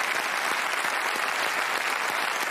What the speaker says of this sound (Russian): Я хочу поблагодарить вас за ваши аплодисменты.